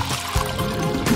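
Water beads poured in with a short trickling patter as they are added to a cold balloon-made ice ball, lasting about a second, close and moderately loud.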